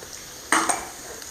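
A brief clatter and sizzle as chopped cabbage is tipped into a hot pan already holding onion and carrot for a stir-fry, with two quick bursts followed by a low steady frying hiss.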